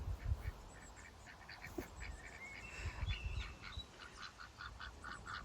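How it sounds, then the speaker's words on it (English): Ducks on a flower farm call out as they approach, a faint, scattered run of quacks and honk-like calls over low outdoor rumble, with no talking. "Here come the ducks."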